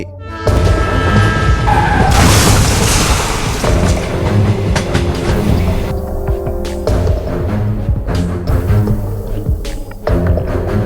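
A train rushing past close by at a railway crossing, a loud sustained rumble with clanking wheels and a horn-like tone early on, the roar shifting as it passes with no speech.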